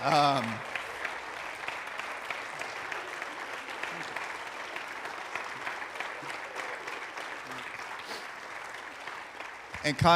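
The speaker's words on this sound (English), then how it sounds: "If you give him a round of applause" A church congregation claps together at a Sunday service launch, sustained and fairly even throughout, with a few louder bursts near the start and end.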